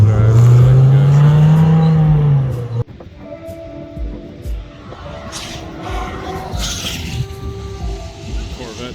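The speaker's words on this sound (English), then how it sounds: "Corvette sounds nasty" A Corvette race car at a track roars past with a rising engine note that peaks and cuts off abruptly, then gives way to a quieter mix of distant engines and speech.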